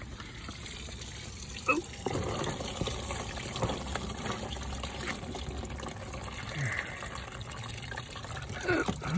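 Coolant drains from a 2015 Honda Civic radiator during a flush, trickling and splashing steadily for several seconds, close by, with a brief spoken exclamation over the running liquid.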